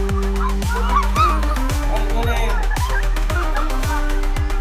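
Loud, repeated honking calls from waterfowl, a series of about eight descending cries in close succession, near and prominent over a busy background of crowd noise at an evening Islamic New Year celebration.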